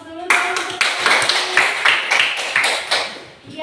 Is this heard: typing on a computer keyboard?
no